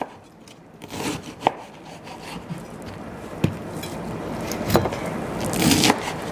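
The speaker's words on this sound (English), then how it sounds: "So I'm just going to slice our cabbage very thin." A knife slices cabbage thin on a board for coleslaw, giving a run of crisp chopping taps and crunchy cuts, close and clear, with no talking.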